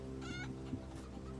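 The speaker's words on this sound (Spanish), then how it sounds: "Mira, hay gallinas y todo" Chickens in the prehistoric survival game Polylithic give soft short clucks, faint and partly buried under steady background game music.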